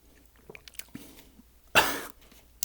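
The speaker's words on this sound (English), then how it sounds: "There, it just made me cough." A single loud, sharp cough from a person who has just tasted a rare, expensive cough syrup, bursting out near the mic after soft mouth and throat noises.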